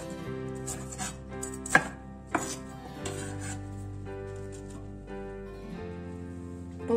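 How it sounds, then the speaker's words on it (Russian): A knife coarsely chops a bell pepper, a few distinct thuds against a board set over a steady tonal hum in the background. "Один болгарский перец также режем крупно."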